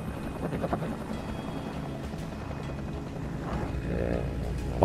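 A Huey military helicopter roars steadily at close range, its dense rotor and engine noise filling the whole stretch with a faint rhythmic blade pulse, and no voices are heard.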